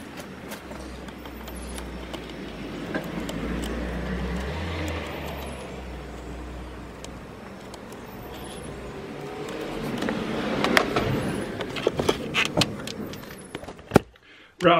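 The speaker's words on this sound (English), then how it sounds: "all I'm going to do now is just remove that Jubilee clip there. That'll help me slide that out" A Jubilee hose clip loosened and a K&N panel air filter slid out of a BMW E87 120d: soft metallic clicks and light rattles, with louder sharp taps near the end, under faint background noise and some talk.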